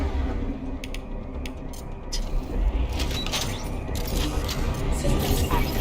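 Mechs approaching in the video game Mass Effect 2, heard as a dense mechanical racket of grinding gears, ratcheting clanks and creaks that builds steadily and stays loud throughout.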